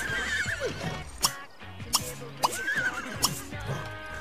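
A horse in The Sims 3 video game gives a clear whinny, followed by several sharp hoof clops and snorts at close range, with no talk.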